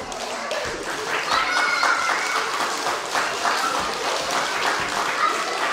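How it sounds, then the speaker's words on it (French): A kindergarten class in Grasse claps for a boy named Benjamin after a gym routine, a brisk, fairly even patter of small hands that carries on throughout, with children's voices faintly mixed in. "Bravo, on applaudit quand même."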